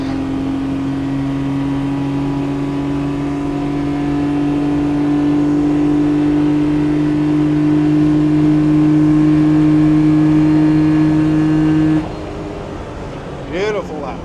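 Daihatsu Midget 2 mini truck, fitted with a supercharger, holds its small engine at full throttle on a lap for a long, loud, steady drone, then abruptly lifts off near the end.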